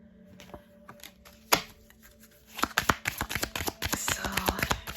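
Tarot cards from a positive energy deck being shuffled by hand, a run of quick crisp riffling flicks and soft taps, close and fairly quiet, with a sharper snap partway through and no talking.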